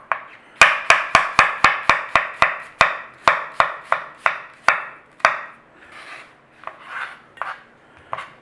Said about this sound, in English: Now, you slice it any which way that you normally slice your onions.